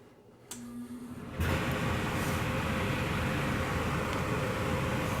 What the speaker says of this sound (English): we're going to have to also turn on our fan, so please excuse the noise here